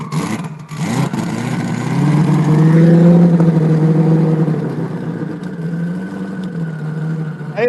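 A car engine in need of a tune-up revs up loudly, swells and holds a throaty roar, then eases back to a rough idle, close by with no talk over it.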